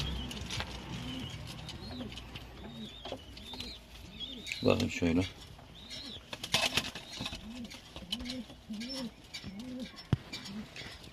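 Pigeons coo steadily in a large coop, a repeated rhythmic cooing in a regular pulse throughout, with other birds calling around them and someone speaking briefly nearby.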